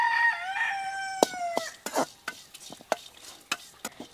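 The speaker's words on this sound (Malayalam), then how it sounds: "ഇനി നമുക്ക് ഇതൊക്കെ ഒരു ചെറിയ തീ വെച്ചിട്ടൊന്ന് വറുത്തെടുക്കാം." Grated coconut, pepper and chili are dry-roasted in a pan on a low flame for Kerala-style soya curry, heard as sharp, irregular spatula scrapes and taps. A rooster crows loudly nearby at the start.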